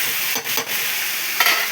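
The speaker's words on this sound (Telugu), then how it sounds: "ఇవన్నీ బంగాళదుంప వేపుడు చేస్తున్నాను." Potatoes frying for a Telugu-style potato fry, a steady close sizzle with a few scraping stirs of the pan.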